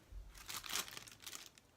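Brief, quiet crinkling of a plastic bag in a kitchen, a few quick crackly rustles over under two seconds.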